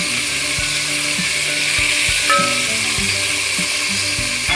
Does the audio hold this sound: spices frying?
yes